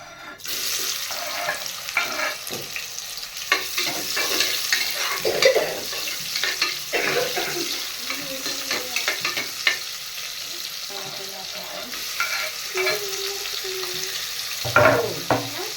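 Sliced onion frying in hot oil in a home kitchen, a steady crackling sizzle with intermittent scraping stirs and clinks throughout, close and moderately loud, no talking.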